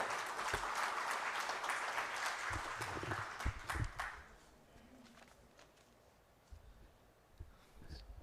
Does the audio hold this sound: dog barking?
no